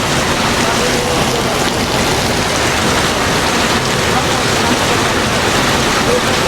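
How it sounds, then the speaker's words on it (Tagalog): Heavy rain pours down steadily on a Manila street, a dense, loud, unbroken hiss that fills the whole scene without pause. "Grabe, lakas ang ulan."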